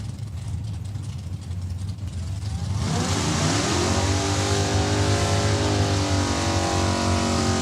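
Drag race cars launch at Saskatchewan International Raceway, quiet idle then a sudden loud roar as engines rev hard and climb steadily, sustained and close.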